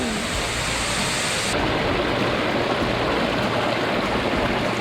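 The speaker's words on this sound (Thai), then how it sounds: "นี่น้ำตกเพนพบใหม่ค่ะ" Phen Phop Mai waterfall at Phu Kradueng in Thailand roars as a loud, continuous rush of falling water, steady and enveloping for the whole stretch, with no voices over it.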